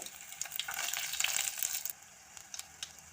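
Shallots, cumin and dried red chillies frying in hot oil for tomato rasam give a soft, steady sizzle with crackling pops. The sound is fairly faint and close, and it settles slightly quieter toward the end.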